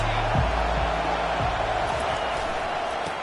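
A dense football stadium crowd roars steadily at an Alabama college game, a broad continuous wash of cheering, with low thuds early on.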